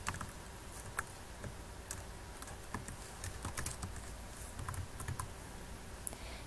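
Typing on a computer keyboard while writing an HTML form: quiet, rapid irregular key clicks and taps throughout, close and soft, with no speech.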